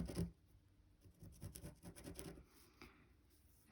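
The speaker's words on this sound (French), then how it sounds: "je viens tracer ma ligne entre le cran et mon point de bâti" A pen scratches across fabric in short, close strokes, soft and papery, with a brief louder rub at the start and quieter tracing after.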